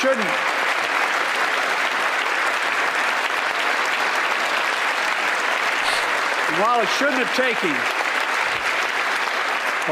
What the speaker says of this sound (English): yes, let's all clap